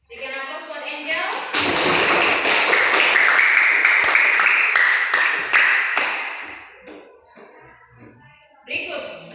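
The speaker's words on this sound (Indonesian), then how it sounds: "Berikan aplaus buat Angel" A classroom group applauds a student, with dense clapping that swells and carries on steadily for several seconds before thinning out, while a voice is heard briefly at the start and again at the end.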